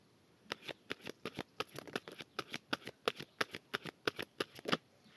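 A deck of tarot cards is shuffled in a quick, steady run of crisp riffling snaps, close and distinct, about twenty sharp flicks evenly spaced with no talk.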